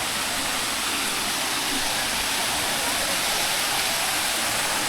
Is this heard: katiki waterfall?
yes